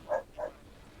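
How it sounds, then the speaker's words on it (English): A dog gives two short, muffled barks in quick succession, faint and somewhat distant in a quiet room. "Sorry for my dog."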